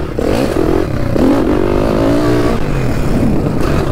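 A powerful YCF pit bike engine revs up close, its pitch climbing and falling in loud, continuous bursts with some mechanical clatter and no speech.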